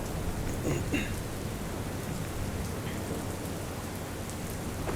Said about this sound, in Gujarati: સાબરકાંઠા જિલ્લામાં છેલ્લા ચોવીસ કલાકથી સર્વત્ર વરસાદ ખાટકી રહ્યો છે